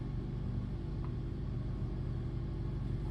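A Formula Atlantic race engine on a dyno holds a steady, loud, throaty rumble at high revs for a few seconds, with no voices.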